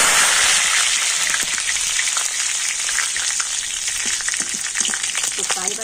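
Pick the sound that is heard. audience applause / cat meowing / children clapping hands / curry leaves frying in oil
curry leaves frying in oil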